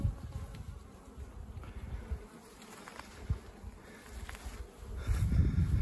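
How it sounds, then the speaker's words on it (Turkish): Honeybees buzz steadily around hives at Turkish mountain apiaries on an overcast spring day, a dense close swarm drone swelling louder toward the end, with no voices. "Çok güzel bir yavru uçuşu var arılarımızda."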